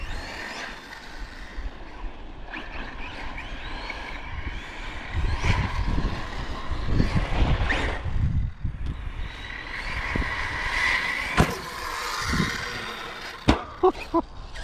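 An Arrma Notorious 6s RC basher truck drives, its electric motor whining and tires roaring on loose ground in a steady, fluctuating rush with sharper bursts and bumps near the end.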